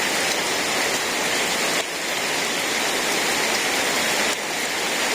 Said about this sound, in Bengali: আসার পরে এই যে আবার শুরু হয়েছে বৃষ্টি।